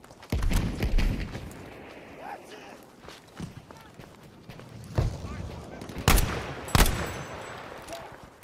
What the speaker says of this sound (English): that machine gun right there.